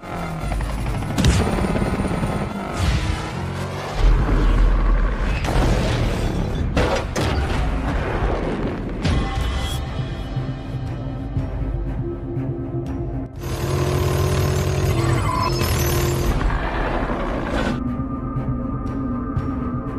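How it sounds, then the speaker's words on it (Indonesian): Film gunfight between an evacuation team and a mercenary group, a dense barrage of loud gunshots, bursts and booms layered over dramatic score, continuous and intense with no speech. "tim evakuasi berhasil mendapati kelompok tentara bayaran tersebut hingga membuat baku tembak terjadi di antara"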